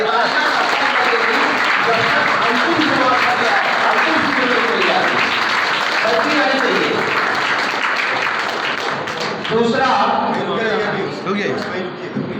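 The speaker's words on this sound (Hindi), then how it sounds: "जोरदार तालियां" Loud, dense applause from an audience at an annual school results and prize distribution ceremony at Jwala Devi Civil Lines, sustained for several seconds and gradually thinning, with some voices mixed in.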